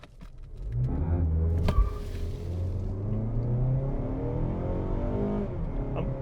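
A 2022 Mazda CX-30 with a 2.5 liter engine accelerates hard from a standstill to 60 mph, its engine note climbing steadily through the gears with a deep rumble, heard from inside the cabin.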